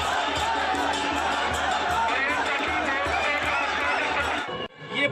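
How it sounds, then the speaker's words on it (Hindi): A dense crowd of spectators at a Braj Holi celebration, with a steady wash of overlapping chatter and voices, fairly loud and continuous, dropping out briefly near the end. "देश विदेश से आए ब्रज की होली देखने वालों की भीड़ आप देख सकते हैं।"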